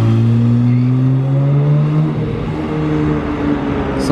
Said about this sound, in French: Ah, le V8 qui sonne tellement bien.